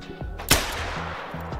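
A single sharp rifle shot rings out in a video game hunt for a raccoon dog on the Revontuli reserve. It is a loud, close crack with a short decaying tail, set against quiet ambience.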